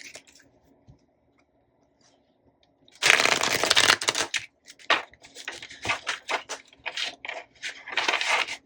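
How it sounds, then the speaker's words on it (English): Tarot cards being shuffled by hand, near and crisp: quiet at first, then a loud riffling burst followed by a run of shorter irregular shuffling flurries and snaps. "sometimes the shuffle is great, and then other times it is terrible"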